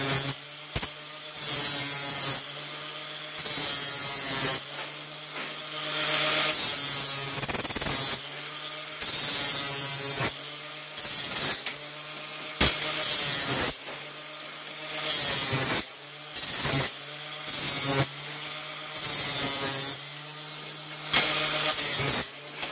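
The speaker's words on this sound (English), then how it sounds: "with your sanding disc, guys, we'll just clean these up very lightly" A sanding disc lightly cleans up metal parts in a string of short, buzzing bursts separated by brief pauses, close and moderately loud, with no talking.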